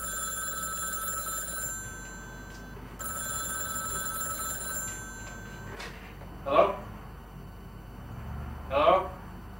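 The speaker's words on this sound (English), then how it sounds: "Phone rings." A telephone rings in sustained electronic bursts with a brief gap between them, clear and fairly close, followed by two short louder thuds or knocks after the ringing stops.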